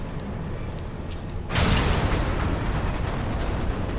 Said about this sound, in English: All cannons, return fire.